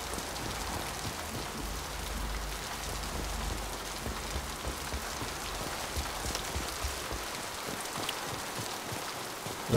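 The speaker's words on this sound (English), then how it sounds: "Love the rain." Rain falls steadily in the video game Mass Effect, a dense, even patter on surfaces that runs unbroken and moderately loud with no voices.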